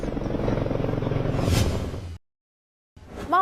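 A helicopter lands in farm fields, its rotor producing a loud, throbbing drone close by that breaks off abruptly and then returns with a rising whoosh.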